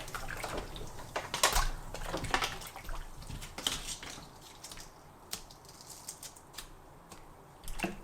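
Dog harnesses dropped into a tub of water with fabric softener, giving a few close, wet plops and sloshing splashes followed by quieter dribbling and swishing.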